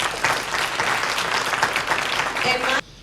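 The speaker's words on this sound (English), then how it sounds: "Give her another hand of applause, please." A room full of people clapping steadily and loudly for a few seconds, then the applause cuts off abruptly.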